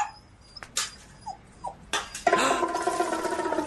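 A dog in a film comedy scene gives a few short whimpers and yelps in bursts, moderately close, followed by a louder stretch of mixed noise.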